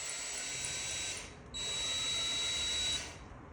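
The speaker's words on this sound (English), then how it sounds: "just kind of let the drill go, and that'll clear out that hole and make it really clean" A power drill bores a hole in a removable gate, a steady high whine running close and fairly quietly, breaking off briefly near the middle before the motor spins up again with a thin tonal edge, and no voices.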